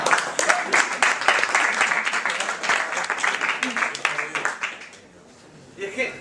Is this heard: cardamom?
no